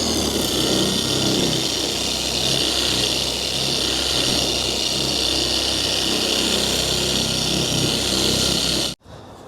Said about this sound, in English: And I got the polisher on setting number 1.